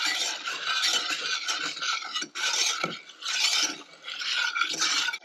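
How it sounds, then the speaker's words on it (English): Milk poured into brown sugar and flour in a pan, with a close, continuous scraping and stirring of a utensil against the cookware, in several bursts with brief pauses. "And now I'm going to add in 1 cup of milk."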